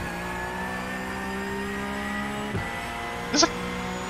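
Porsche 911 GT3 Cup (991) race car engines in iRacing at Daytona, a steady droning hum with a brief blip and a short high whine near the end, heard alongside faint background.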